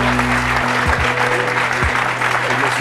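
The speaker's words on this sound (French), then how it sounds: "Je vous propose tout de suite de l'accueillir, de l'applaudir chaleureusement." A French TV talk-show studio audience applauds loudly and steadily, a dense wash of clapping over a low musical hum with a few thumps.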